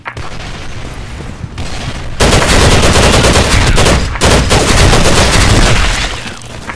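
Sustained automatic gunfire in the online shooter S.K.I.L.L Special Force 2 during a team deathmatch on an office map, loud rapid bursts hammering almost continuously after a quieter opening second.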